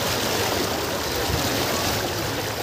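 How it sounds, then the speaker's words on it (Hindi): Fast-flowing stream water rushes steadily at a riverside picnic spot, a loud, continuous broadband wash heard up close with no break for the full stretch. "भाई पानी पूरा तेज है।"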